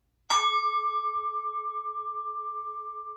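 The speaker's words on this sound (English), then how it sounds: "When I ring the bell," A single bell strike in a kids' yoga class rings out clearly, then sustains with a long, pulsing shimmer that fades slowly in an otherwise quiet space.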